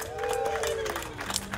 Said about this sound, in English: To give a big round of applause to Chris Dunn and Joanna Miller